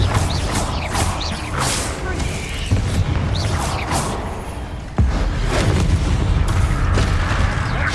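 Confringo blasting spell in Hogwarts Legacy, loud booming explosive bursts with mechanical crackle, a fresh blast hitting near five seconds amid dense game effects.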